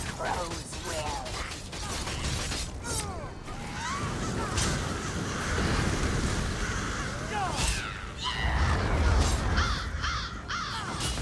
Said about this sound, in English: Tear you apart, my crows will.